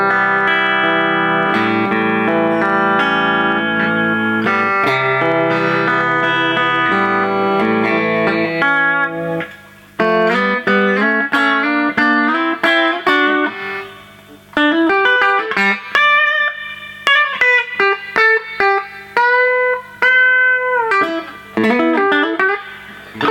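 Electric guitar played through a Fender Blues Junior tube amp with reverb, first sustained chords, then a pause and picked single notes ringing out with a lingering tail.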